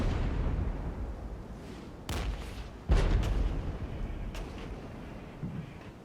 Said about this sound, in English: That artillery is going to hurt.